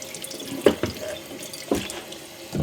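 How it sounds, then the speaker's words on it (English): Thin, low tap stream of water runs over a raw whole chicken being rinsed inside and out in a sink, a quiet steady trickle broken by a few brief splashy bursts as the water hits the bird. "I will give this chicken just a good rinse inside and out. Notice I'm using very, very low water stream"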